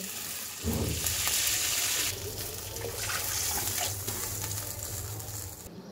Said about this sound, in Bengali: এই তেলের মধ্যে আমি দিয়ে দেব সামান্য জল।